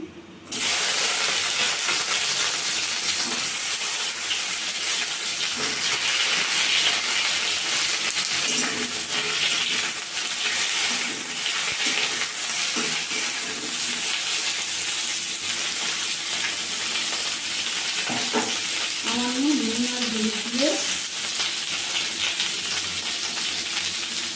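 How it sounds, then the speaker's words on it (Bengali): Lady's finger and brinjal frying in a pan, a steady broadband sizzle and hiss holding for about twenty-four seconds with brief faint tonal chirps near the end. "এবার এইগুলোকে ভেজে নেবো"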